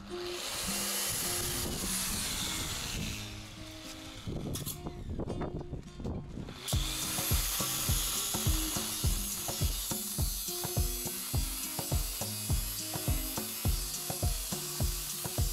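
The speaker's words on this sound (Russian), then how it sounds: "Болгарка нифига не берет" An angle grinder struggles against metal while glazing a house veranda, giving a close, continuous motor whine with repeated rhythmic rasping bursts throughout, and no talk.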